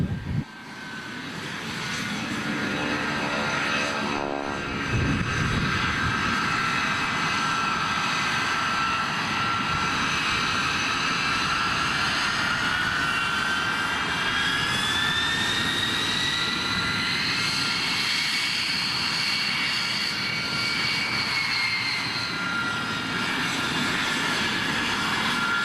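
Jet aircraft fly a formation aerobatic display at an air show, a loud continuous roar with a rising and falling whine as they pass, sustained throughout.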